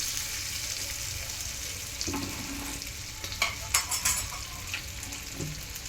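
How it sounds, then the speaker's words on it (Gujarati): Stuffed okra and peanuts frying in oil give a steady, close sizzle while a spoon stirs the pan, adding clinks and scrapes against the metal, with no talking. "થોડીક સીંગું નાખીને પહેલાં હલાઈ નાખવાનું બધામાં તેલ મસ્ત મિક્સ થઈ જાય એવી રીતે"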